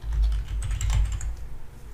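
Quick, light clicking of typing on a computer keyboard, a short run of keystrokes heard close and fairly quiet with no talking.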